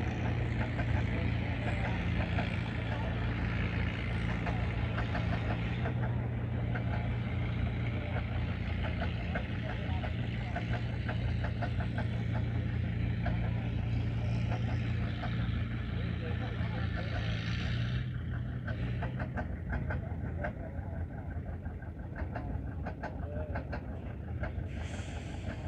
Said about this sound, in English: There we got a two-cylinder John Deere general purpose coming up next.